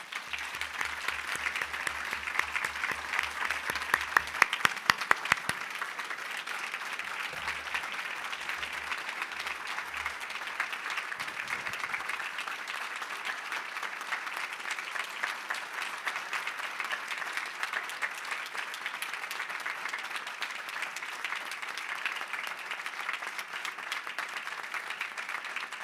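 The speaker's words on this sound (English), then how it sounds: "Let's please all give them a huge round of applause." Audience applause at the opening ceremony of a press congress, a steady, even wash of many hands clapping from a large crowd, continuing without break from start to finish at moderate volume.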